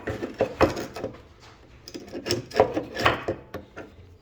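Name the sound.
pulling a wooden dowel out of a rocking chair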